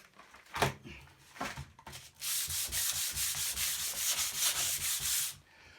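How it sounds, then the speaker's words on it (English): Sanding a wooden seat by hand: a few short rubbing strokes, then a steady, close, scratchy sanding run of several seconds with a regular back-and-forth rhythm, no voices. "Put it down and sand away."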